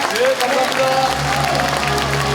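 An audience at a county governor's talk concert in Uljin applauds steadily beneath a sustained musical tone and low hum, with voices mixed into the clapping.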